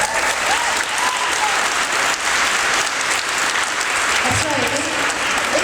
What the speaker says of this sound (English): I just think you deserve a round of applause for that.